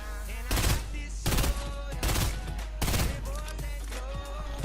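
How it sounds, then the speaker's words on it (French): Automatic gunfire in a battle-royale video game match, solo against duos: about five sharp bursts of rapid shots in quick succession, loud and close. "je vois un mec, je tire dessus"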